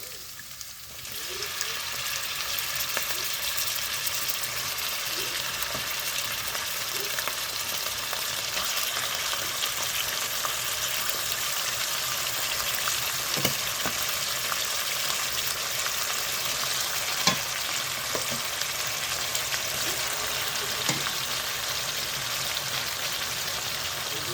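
Pork frying in a pan for Filipino pork pastel, a dense continuous hiss of oil sizzling with occasional faint clicks of stirring, steady and close with no talking.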